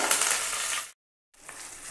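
Green chillies and curry leaves frying in a pan for cauliflower fry, a close crackling sizzle that briefly cuts out and then resumes more softly.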